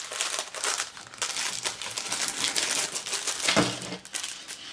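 Continuous close crinkling and crackling of plastic packaging, busy and uneven, with a sharper crunch near the end.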